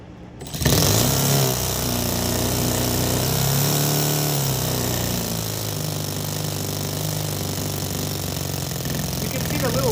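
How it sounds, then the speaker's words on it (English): A small RC model engine with its valve cover removed fires up within the first second and runs with a loud, steady, buzzing drone that holds for the rest of the stretch. "now let's run it with the valve cover off."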